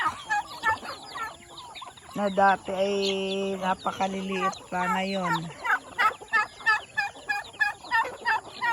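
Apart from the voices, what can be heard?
free-range chickens and turkeys clucking and gobbling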